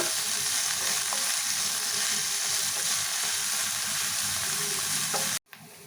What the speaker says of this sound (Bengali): পেঁয়াজটা আমি তেলের মধ্যে দিয়ে দিচ্ছি। পেঁয়াজটা একটু ভালো করে ভেজে নেব।